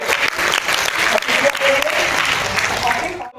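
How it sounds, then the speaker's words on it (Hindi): Loud, dense applause from the audience at an All India Uttarakhand Mahasabha foundation day gathering, sustained throughout and cutting off sharply at the end, with faint voices underneath. "जोरदार तालियां"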